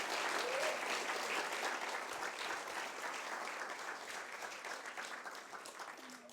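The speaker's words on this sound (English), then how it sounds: "One more round of applause for some incredible businesses, partners, and award winners." A large audience applauds steadily at a river conservation group's State of the Yuba gathering, a dense, sustained clatter of clapping that tapers slightly toward the end.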